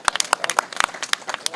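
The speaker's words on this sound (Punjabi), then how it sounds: "ਤੁਹਾਡੀ ਭਰਪੂਰ ਤਾਲੀਆਂ ਦੇ ਅੰਦਰ" Audience applause at a political gathering, a short burst of scattered sharp claps from a modest crowd, close and fairly loud.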